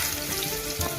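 Chopped onions hitting hot mustard oil with a cumin tempering for Kathiyawadi baingan bharta, a steady dense sizzle with a brief louder spatter near the end, no talking.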